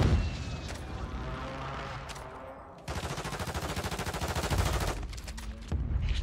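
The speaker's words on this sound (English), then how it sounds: "He's still trying to snipe." Sniper rifle shots in the video game Call of Duty ring out as loud rapid reports and bursts of gunfire, some sharp and close, others echoing and sustained.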